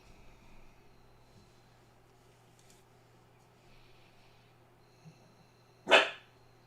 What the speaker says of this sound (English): Was that one bark or two?